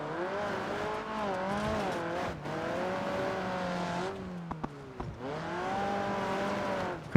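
A 4-cylinder car engine in BeamNG.drive straining hard, droning and rising in pitch through repeated revs with short drops between, loud and close, with brief clunks near the end.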